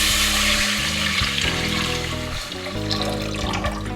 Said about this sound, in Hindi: मगज़ फ्राई के लिए पैन में मैं पानी डाल रही हूँ